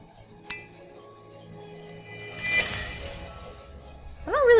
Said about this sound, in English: There was glass that I needed to break.